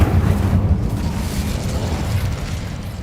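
An Incendio fire spell from Hogwarts Legacy: a steady, loud roaring whoosh of flame with a rumbling low body, sustained alone for a few seconds.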